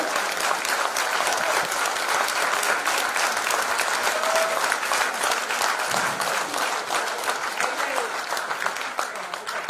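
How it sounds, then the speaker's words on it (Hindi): Sustained applause from an audience at an agriculture products training session, dense and steady clapping filling the room for about ten seconds, easing slightly toward the end. "खुद के लिए ताली बजाओ"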